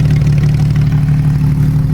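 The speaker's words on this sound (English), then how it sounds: "This thing's got a Dundon exhaust" A Porsche 911 GT3 RS Weissach fitted with Dundon Inconel headers and exhaust, running close by. It makes a loud, steady, throaty engine drone with a constant low rumble and no change in revs.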